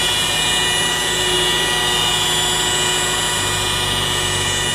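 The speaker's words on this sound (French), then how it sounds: "je laisse travailler la machine à 800 tours" Rotary polishing machine running slowly at about 800 rpm while oxidized paint is removed from a camper van, giving a steady, continuous whirring hum with high-pitched tonal whine throughout, close and unbroken, no voices.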